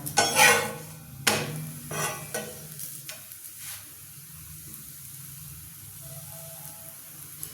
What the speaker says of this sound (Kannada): ಈಗ ನೋಡಿ ಉಲ್ಟಾ ಹಾಕ್ತಾ ಇದ್ದೀನಿ. ಚೆನ್ನಾಗಿ ಬೇಯಿಸ್ಕೊಳ್ಳಿ ಇದನ್ನು